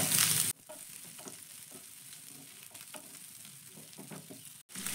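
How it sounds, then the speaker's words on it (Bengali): Capsicum and onion frying lightly with ginger and garlic in a pan over a gas flame for chilli paneer, a steady sizzle with soft stirring scrapes, close and alone without talk. "এবার ক্যাপসিকাম আর পেঁয়াজটাকে একটু আদা রসুনের সঙ্গে ভেজে নেব"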